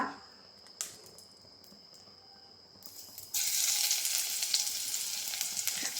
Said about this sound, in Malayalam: രണ്ടല്ലി വെളുത്തുള്ളി വെളുത്തുള്ളിയൊക്കെ നന്നായിട്ട് മൂട്ടിക്കണം